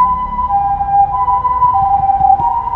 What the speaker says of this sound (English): so you can hear the ambulance outside